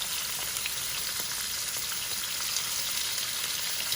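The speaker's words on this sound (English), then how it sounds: "the wok is already hot, so it doesn't take that long for the oil to heat up. I'm just putting my shrimp in here" Shrimp cooking in hot oil in a preheated wok hiss in a dense, even sizzle, loud and close, with a fine crackle running steadily from start to finish.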